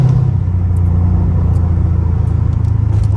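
Loud, steady low exhaust rumble from a catless Dodge Charger SRT, droning continuously from inside the car while driving in rain, with no talk.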